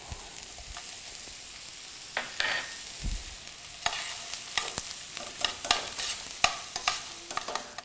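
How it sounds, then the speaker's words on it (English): Bacon and diced onion sautéing in hot olive oil in a pan, a quiet frying hiss punctuated by a growing series of sharp spatula scrapes and taps toward the end. "I'll now saute some bacon and diced onion"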